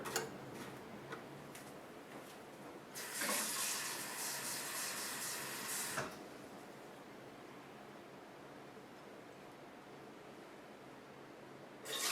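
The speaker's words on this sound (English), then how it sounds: "I'm going to put in my half a cup of water." A short pour of half a cup of water into a pan for making candied strawberries, lasting about three seconds, close and fairly loud, then quiet room tone with faint ticking.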